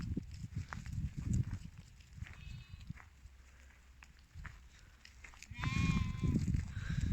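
Several Sarıbaş ewes with lambs bleat at varying distances, with one loud nearby bleat near the end, over low shuffling and background chatter.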